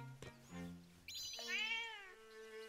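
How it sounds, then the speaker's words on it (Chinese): A cartoonish cat meows inside the video game Zelda: Echoes of Wisdom, a few distinct, clear meows rising and falling in pitch, close and alone with no talk over them. "你是说这楼上这只猫吗？"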